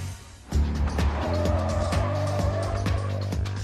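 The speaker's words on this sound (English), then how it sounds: "This causes the rear wheels of the suspect to lose traction, resulting in a spin-out." A police car spins out during a pursuit as its rear wheels lose traction, giving a loud, steady engine roar with tire squeal that jumps in suddenly and holds throughout.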